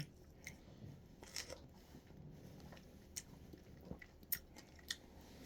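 Quiet, close crunching bites and chewing of a fresh Japanese strawberry, with soft crisp clicks scattered over a few seconds against faint background noise.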